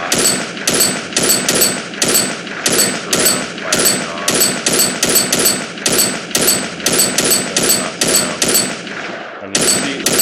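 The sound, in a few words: gunshots from a third person shooter video game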